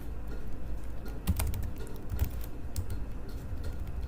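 Fingers tap quickly on a computer keyboard while entering an expression in Mathematica, close light clicks in irregular bursts over faint room hiss.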